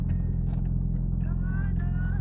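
A Nissan 200SX SE-R with a turbocharged SR20DET running 10 psi boost cruises gently, its steady engine drone close and constant while someone talks over it.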